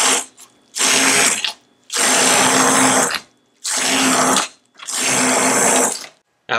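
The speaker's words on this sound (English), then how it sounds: "use a stick blender" A stick blender whirs through a tofu lasagna filling with nutritional yeast, spices and seasonings in four loud, close bursts of about a second each, separated by short pauses.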